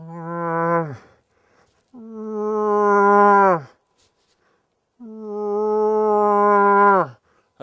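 A caller imitates a cow moose through a calling horn, three long nasal moaning calls separated by pauses, each holding steady then bending and fading at the end, loud and close.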